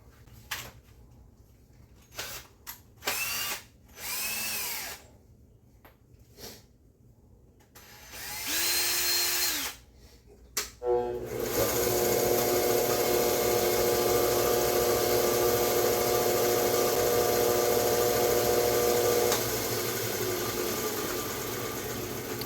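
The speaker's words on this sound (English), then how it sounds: "I'm going to just spin it up against my sander, right against the edge of the belt, like this." A belt sander grinds a bevel on a titanium and Damascus knife edge, with short bursts of motor whine followed by a long, loud continuous grinding drone close by.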